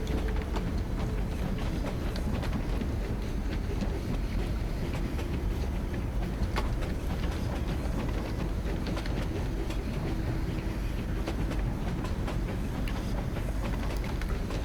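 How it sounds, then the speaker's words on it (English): Continuous rumbling train ride in a video game, a steady low rolling drone with faint rattles and clacks running evenly throughout, no voices. "Take the train ride."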